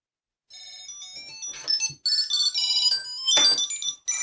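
A Bluetooth key finder tracker chimes an electronic melodic ringtone repeatedly from its small speaker, starting after a brief silence and shifting between quieter and louder passages.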